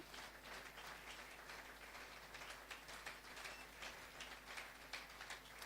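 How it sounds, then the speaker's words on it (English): An audience at a university pharmaceutical sciences chapter event claps continuously, a faint, distant wash of many hands, with occasional louder claps in a thin, low-level recording. "Previous heads of departments, please stand up, let us clap for them."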